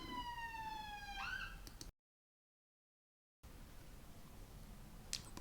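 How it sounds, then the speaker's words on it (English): Emergency vehicle sirens wail outside, with a rising-and-falling electronic tone fading away after a moment, then distant traffic noise resumes with a brief sharp chirp near the end. "Excuse the sirens."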